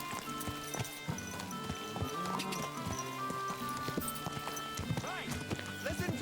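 A horse in Kingdom Come: Deliverance II clip-clops with steady, close hoofbeats and gives a couple of whinnies, with game ambience and a voice talking underneath.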